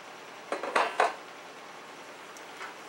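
A round EZ Pockets baking pan clanks and rattles as it is handled, a few close metallic knocks clustered together and then quiet, over a faint steady hiss.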